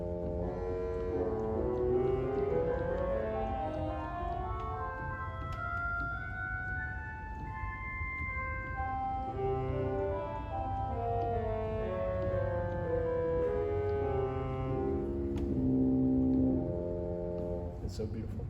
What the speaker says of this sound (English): Yeah, and an English horn.